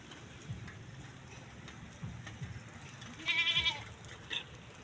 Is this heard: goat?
yes